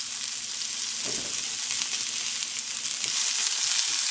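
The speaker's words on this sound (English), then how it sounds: "I'm just going to put my onions and orange peppers in the pan and start to saute those." Onions and orange peppers saute in a hot pan, giving a continuous close, bright sizzle with a few soft stirring scrapes, and no talking.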